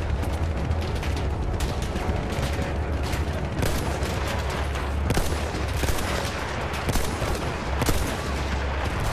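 Dense, continuous gunfire from the Battlefield 1 video game, sustained volleys and rapid bursts with heavy booms rolling through the full span, loud and unbroken, with no talking.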